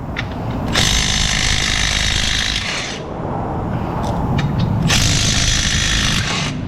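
A Milwaukee impact tool hammers away in two loud, close bursts of rapid rattling impacts from its anvil, each lasting a couple of seconds with a brief lull between them, and nobody speaks.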